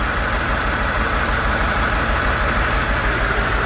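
A Mercedes SL600 V12 engine runs at a steady idle. The low, even rumble is close and continuous and never changes pitch.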